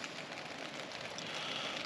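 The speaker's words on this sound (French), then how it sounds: "Ce que vous entendez là, c'est la pluie." Steady light rain patters on a tent on a rainy morning of a cycle-touring camping trip in the Écrins mountains, a continuous soft hiss of drops close by with no talking.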